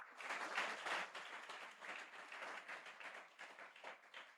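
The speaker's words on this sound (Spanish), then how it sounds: "Dale un fuerte aplauso a Jesús," A church congregation claps and applauds for a few seconds. The applause is soft and somewhat distant, with an uneven patter and no clear voices.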